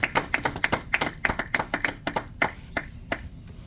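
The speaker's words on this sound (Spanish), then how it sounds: "Dale un aplauso a ti." A small church congregation at a Spanish-language Bible study claps in a quick, fairly regular rhythm of sharp nearby hand claps that thins out toward the end.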